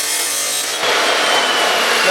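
A saw cuts through a piece of wood for making leaf spring pads, a close, loud rasping stroke that starts abruptly and carries on steadily as the blade bites into the board.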